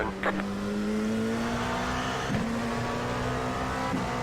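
Race cars starting an IMSA round at Charlotte in the iRacing video game, a steady loud engine drone with a few brief revs and surges, heard close and continuous.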